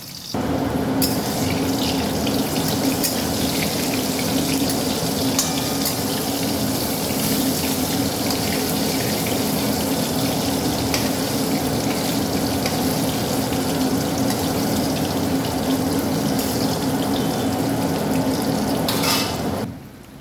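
Eggplant frying in oil in a pan gives a loud, even sizzle that runs unbroken for about twenty seconds, then cuts off sharply at the end, with no voices over it.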